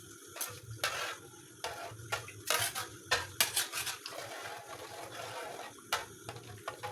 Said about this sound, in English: And mix thoroughly, mix very well.